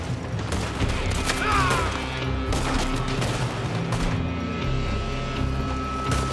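Gunfire in the Western shooter Red Dead Redemption II: a dense, continuous fusillade of overlapping shots and cracks over six seconds, loud and close, with game music and effects underneath.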